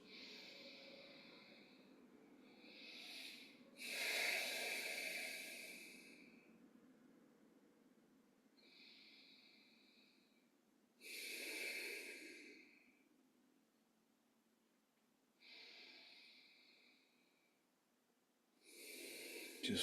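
Ujjayi yoga breathing during a recovery session, several slow, hissing, snore-like breaths drawn at the back of the throat, each swelling and fading with quiet pauses between, soft and close with no talking.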